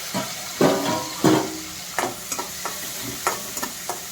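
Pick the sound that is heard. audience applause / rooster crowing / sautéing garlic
sautéing garlic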